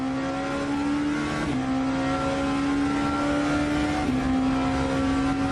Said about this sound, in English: Having a listen to the engine noises and all the various inputs that are going in, gear changing, brakes